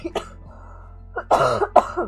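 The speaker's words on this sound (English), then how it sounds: "Spoiler alert, still slight cough." A short cough, then a pause and a couple of harsher, throaty coughs close to the listener.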